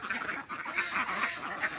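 Several domestic ducks quack in quick, overlapping bursts close by, a busy chattering flock with no voices.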